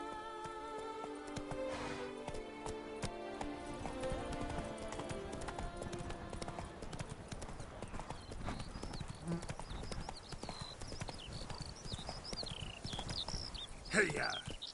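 Game horse Roach gallops with steady clip-clop hoofbeats under a music score through the whole stretch, with a whinny-like burst near the end and voices calling to the horse.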